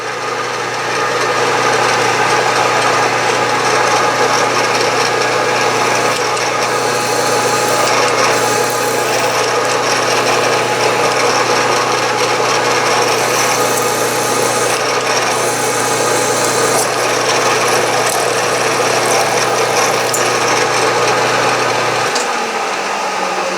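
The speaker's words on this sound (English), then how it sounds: "I'm just going to go ahead and drill it with that size" A drill whines steadily and loudly as it bores into aluminum without pause, then cuts off just before the end.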